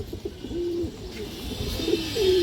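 A male pigeon coos softly a few times in short rising calls, close by against a faint background hum.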